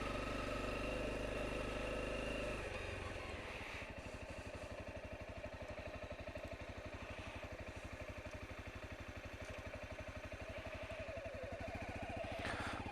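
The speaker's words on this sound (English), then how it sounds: "The sheer number of vehicles here is amazing." Engines idle nearby among many vehicles: a loud, steady throbbing that shifts pitch after a couple of seconds and then runs on evenly, with no talking.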